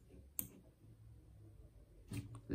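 A button is pressed on a wireless keyboard being connected to an Android tablet: two faint, sharp clicks spaced a couple of seconds apart against a quiet room.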